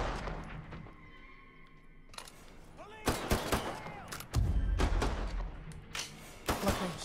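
Gunfire in the video game Mafia III: several loud, sharp shots and heavy thuds arrive in uneven bursts after a quieter stretch, close and punchy, with a voice speaking in between.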